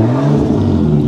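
An Audi RS6 with a twin-turbo V10 passes close by, a loud, brief engine roar with a steady low drone that rises slightly as it goes past, no talking.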